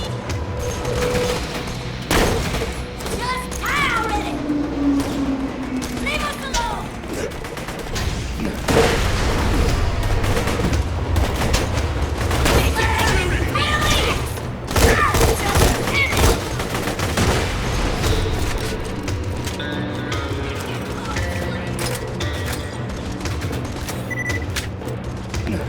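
Assault rifles fire in rapid bursts in the video game Borderlands 2, mixed with booms and crashes, dense and loud throughout, with a voice talking over the action.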